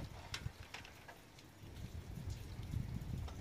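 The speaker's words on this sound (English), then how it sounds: "It's raining." Rain falls outside on a cloudy day around a rooftop solar power setup, a soft, steady patter with scattered drops and some wind rumble, fairly quiet throughout with no talking.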